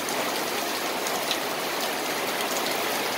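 Hard rain from Typhoon Kristine drums on surfaces around flooded Mabuhay Golden City, a constant close wash of drops with faint individual patters scattered through it, and no speech.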